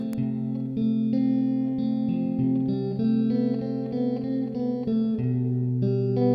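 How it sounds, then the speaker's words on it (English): A clean electric guitar through a Mooer Micro Preamp 006 with light spring reverb from a Hall of Fame 2 plays a sequence of sustained chords and notes, with a gentle reverb tail ringing after each change. "Let's try to counteract that by adding some light spring reverb"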